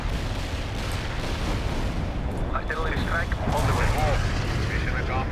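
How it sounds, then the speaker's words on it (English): Medium artillery fire in World in Conflict, a continuous low rumble of distant shelling with scattered bursts and blasts growing louder toward the end, with voices talking over it. "Need some medium artillery here."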